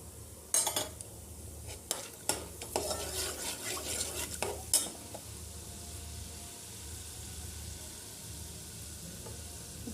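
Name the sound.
cumin and chana dal frying in oil while stirring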